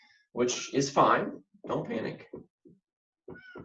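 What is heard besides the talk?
cat meowing to get in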